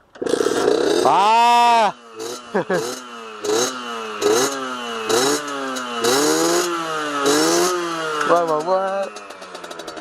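Enduro motorcycle set up as a supermoto, its engine cranking and catching in repeated rising and falling revs, loud and close, with brief voices in between.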